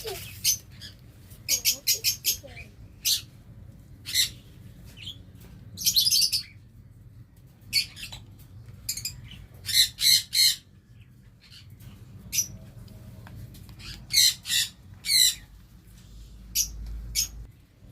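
A hand-fed pet bird gives repeated short, high chirps and squawks in scattered bursts, fairly close, with light background noise and no talking.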